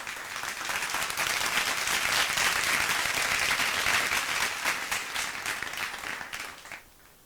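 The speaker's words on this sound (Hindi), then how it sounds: "जोरदार तालियां इन बच्चों के सम्मान में बजनी चाहिए।" Hearty applause from the audience at a felicitation ceremony for meritorious students, many hands clapping steadily for several seconds before fading away near the end.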